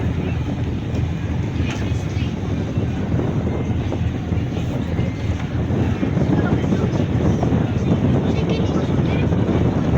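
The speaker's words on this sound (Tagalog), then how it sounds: "Malakas ang alon." Strong sea waves and wind buffet a crowded passenger ship, a continuous loud rumbling roar of water and engine with gusty wind noise on the microphone throughout.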